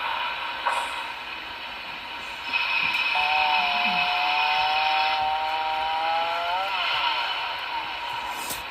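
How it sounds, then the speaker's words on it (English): A lumber mill sound effect from a Broadway Limited Paragon 4 Union Pacific FEF-3 model locomotive: a steady buzzing saw-like whine with a rising, sliding tone partway through, over faint hiss, fairly close and alone. "F-21 is lumber mill sounds"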